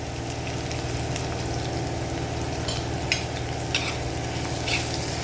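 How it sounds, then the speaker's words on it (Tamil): Jackfruit seeds fry in a pan with a constant crackling sizzle over a low hum, punctuated by a few sharp stirring clicks and pops, no voices. "அப்படியே ஃப்ரை பண்ணுங்கள்"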